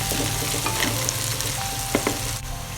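Onions fry in a pan toward a light brown, giving a steady, close sizzle with a few soft stirring scrapes.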